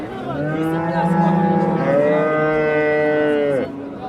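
A cow at a busy livestock market in Samarkand lets out one long, loud, close moo lasting several seconds, rising then falling away, over faint background crowd noise.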